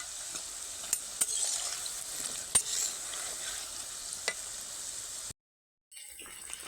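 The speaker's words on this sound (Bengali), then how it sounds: "এগুলোকে হালকা আজে দুই থেকে তিন মিনিট ধরে ভাজবো" Cauliflower pakoras fry in hot oil, a close, continuous bubbling sizzle with sharp clicks and stirring knocks. The sound cuts out briefly near the end before resuming.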